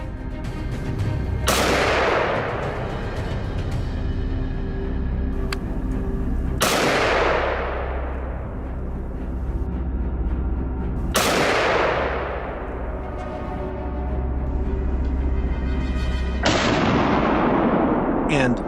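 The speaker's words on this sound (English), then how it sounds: "a single shot from my teammate claimed another life just as cleanly" Loud hunting rifle shots ring out during a wild boar hunt in wheat fields, four sharp blasts spaced several seconds apart, each followed by a long echoing decay outdoors.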